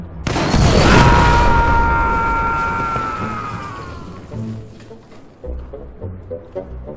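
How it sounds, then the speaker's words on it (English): A grenade goes off in Battlefield 4 with a loud, close boom that swells into a long rumbling decay and a high ringing tone, then fades to muffled distant battle thuds. "Here comes a grenade! Heads up!"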